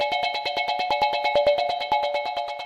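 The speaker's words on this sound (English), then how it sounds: "I've got it pretty short because I wanted a percussive sort of drum-like effect." A Max for Live physics-based resonator device set short for a percussive, drum-like effect, firing rapid evenly spaced metallic tonal hits in a steady pulse, close and clear with no voices.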